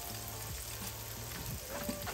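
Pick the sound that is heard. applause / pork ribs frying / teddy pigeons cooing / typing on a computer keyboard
pork ribs frying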